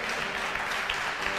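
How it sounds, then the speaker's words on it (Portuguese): Church congregation applauding together, a steady dense wash of clapping that continues evenly throughout without pauses. "Quem crê, aplauda a presença do Rei dos Reis dessa noite"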